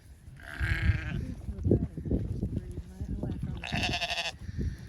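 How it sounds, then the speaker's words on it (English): Ewes on a sheep farm bleat in two loud, wavering calls, one early and one near the end, while people talk nearby and other farm noises fill the gaps. "So these are all the lady sheep."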